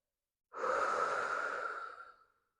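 A single deep yogic inhale, drawn slowly and steadily through the body for about two seconds, close and clear with no voices over it.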